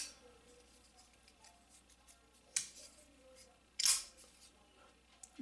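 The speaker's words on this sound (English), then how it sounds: "Deploys just as well with thumb studs as with the flipper." A Kriegar folding knife blade is flicked open with its thumb studs, producing crisp, sharp snaps against an otherwise quiet background, with two distinct clicks a little over a second apart.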